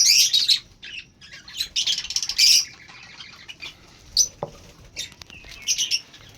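A baby bird chick chirps in short bursts of high, thin squeaks and peeps, close by, with brief pauses between calls and quiet background.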